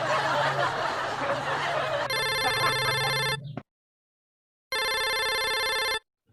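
Telephone rings in two loud electronic bursts of rapid trilling, separated by a brief silence, following a stretch of noisy indoor background with a low hum.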